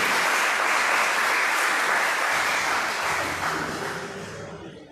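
A round of applause fills a church-style gathering, dense and steady clapping from a crowd that holds loud for most of the stretch before tapering off near the end.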